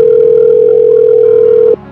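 A telephone ringing tone sounds on a call as a single loud, steady electronic tone that holds for nearly two seconds before cutting off abruptly.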